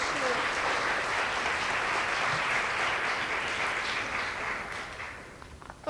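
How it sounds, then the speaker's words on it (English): Full audience applause at a social media meetup talk, a thick continuous burst of clapping that holds strong for several seconds and then tapers off near the end. "A round of applause for Rare Christian."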